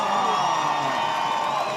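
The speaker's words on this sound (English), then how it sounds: "we hear the crowd go wild." A crowd at a surfing contest cheers and whoops in a dense, sustained roar heard from a distance, with no clear individual voices standing out.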